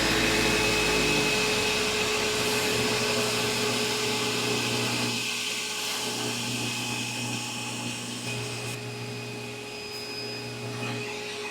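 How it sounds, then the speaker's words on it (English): A bench buffing wheel polishes a sanded metal tobacco pipe stem, giving a steady loud motor whir with a dense broadband hiss that softens slightly partway through as the stem presses against the wheel, with no voices. "so let's put it on the buffer"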